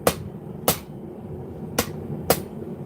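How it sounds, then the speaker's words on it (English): A rounding hammer strikes hot metal at a forge four times in an uneven rhythm, each blow a sharp, bright clang that rings briefly over a low background hum. "I'm using the rounding hammer and I'm trying not to overswing"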